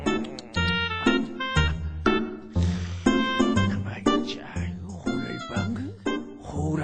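A cat meows several times in short, harmonic calls, mixed with a speaking voice in a lively puppet theatre scene.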